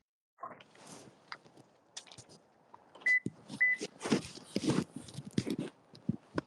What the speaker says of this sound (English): Beep beep, two beeps that close together